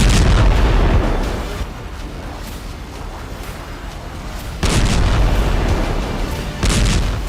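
Heavy booms from rocket attacks and Iron Dome interceptions over Israel echo across a wide area, several deep blasts separated by rumbling decay, the loudest striking near the start, middle and end.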